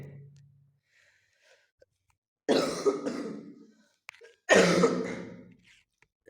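A person coughs hard twice, harsh and close, with quiet pauses between the bursts.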